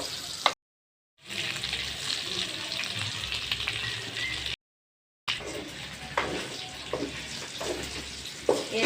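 Chicken fries in a pan with a steady, moderately loud sizzle broken by two brief silent gaps, with occasional stirring scrapes and pops over the hiss.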